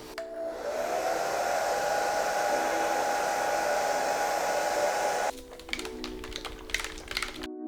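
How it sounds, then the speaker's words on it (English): A handheld hair blow dryer whirs steadily and close while warming the coating on a leather steering wheel, its airflow rising then cutting off near the end, followed by light tapping and handling noises. "You could also use a heat gun used for paint, but it's a lot hotter than the blow dryer you use for your hair."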